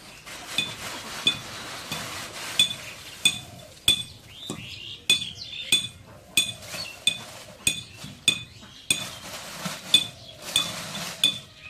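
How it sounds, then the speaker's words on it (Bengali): Areca nut being pounded into powder for paan, heard as a steady series of sharp metallic clinks and knocks in close rhythm, repeating across the whole stretch with no talk. "এদিক দিয়ে আব্বা সুপারি গুঁড়া করতেছে পান খাওয়ার জন্য"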